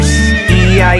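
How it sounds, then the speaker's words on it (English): Horse neighing in a children's song about a zoo: a loud, brief whinny filling the whole second, part of an animated nursery rhyme with a musical backing. "in the zoo he met a horse"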